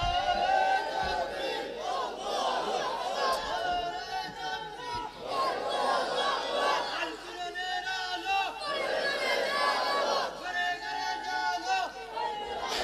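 A crowd at a religious sermon shouts takbir in unison, loud massed voices rising in repeated bursts that swell and fade, with a preacher's voice leading between them.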